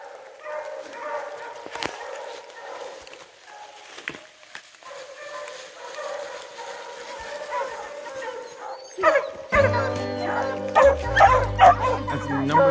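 Bear-hunting hounds bark and yip in bursts out on a ridge, some close and some farther off, with louder clattering and handling noise near the end while people talk in the background.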